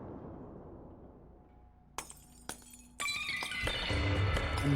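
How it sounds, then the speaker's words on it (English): A malachite gem in a silver setting shatters in the video game Perception, first a couple of sharp clinks, then a loud burst of breaking glass that rings on, close and without talk. "How does a gem inside a silver setting just shatter like that?"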